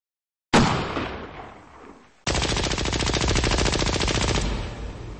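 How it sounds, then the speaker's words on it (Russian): A single sharp gunshot rings out and echoes away, then after a brief pause a machine gun fires a long, rapid, sustained burst. "Вновь прозвучал одиночный выстрел и тут же заработал пулемет"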